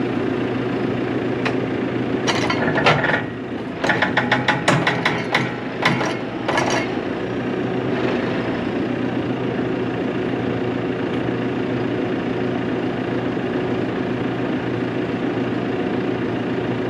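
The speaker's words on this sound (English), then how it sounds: "The loader is maxed out now on tick over." A loader engine idles at tick over while a chain is put under tension to unbend a new trailer, a steady low mechanical rumble with a burst of sharp metallic clicks and rattles early on before settling into the even drone.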